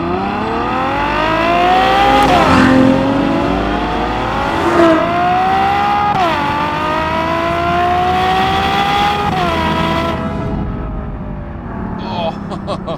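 A Ferrari GTC4Lusso's naturally aspirated 6.3-litre V12 revs hard and loud up close, rising in several sweeping pulls with brief dips between them before easing off near the end.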